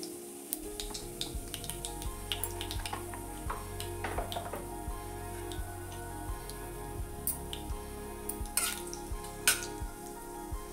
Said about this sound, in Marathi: मोहरी छान तडतडली.